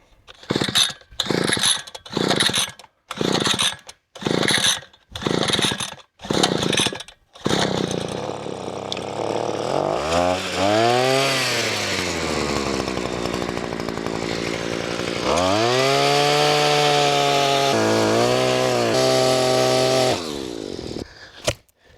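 A gas-powered post hole digger's engine sputters through several pull-start attempts, then roars to life, revving up and down loudly as the digger runs.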